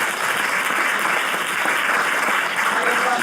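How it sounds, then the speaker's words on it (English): Sustained applause from a conference audience at the Cinema Elvira Popescu, dense and steady throughout with no pauses. "Please, applause."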